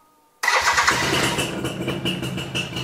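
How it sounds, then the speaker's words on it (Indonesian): A motorcycle engine cranks on its electric starter, catches on the first try and settles into a loud, steady idle close by. No one speaks. "Kita kontak, ada tanda netralnya nyala, kita starter."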